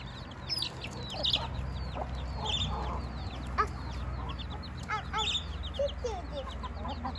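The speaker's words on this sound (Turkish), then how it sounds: "Küçük civciv gel buraya gel." Chickens cluck and chicks peep in a busy, overlapping chorus, close by and fairly quiet, with no talking.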